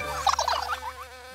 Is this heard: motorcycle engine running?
no